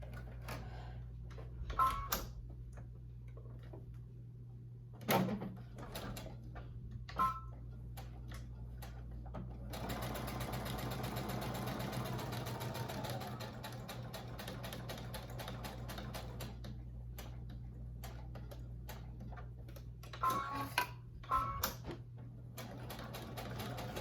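A domestic sewing machine stitches a wallet flap in one steady, rapid run of about ten seconds, with clicks and handling sounds before and after it and a low hum throughout.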